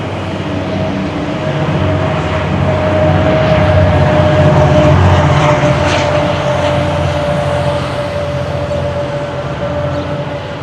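A GO commuter train passes near Dufferin Station on Bloor Street in Toronto, a loud, steady rumble with a droning hum that swells in the middle and eases slightly toward the end.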